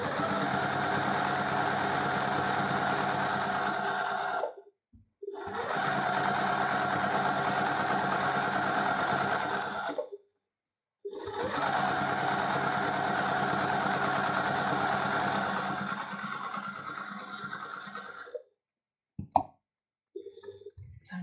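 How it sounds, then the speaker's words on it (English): A sewing machine runs steadily, stitching a quarter inch either side of a marked line on quilt half square triangles, in three long bursts separated by brief pauses, with small handling sounds at the end. "Now I'm going to sew a 1/4 inch either side of this marked line."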